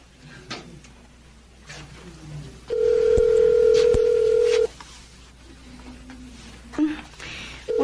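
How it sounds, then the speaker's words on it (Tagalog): A telephone is dialed: a few soft keypad sounds, then a long steady loud tone, followed by short beeping tones, with a quiet voice near the end. "Tawagan ko kaya si Sally"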